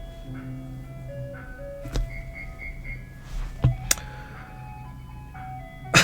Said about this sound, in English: can you get the fucking ice cream truck